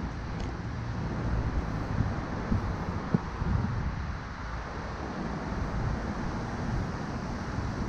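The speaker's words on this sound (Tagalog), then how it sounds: "Mahangin." Steady wind blowing outdoors under an overcast sky, a continuous broadband rush with gusty low rumble buffeting the microphone throughout, faint and even with no clear voices.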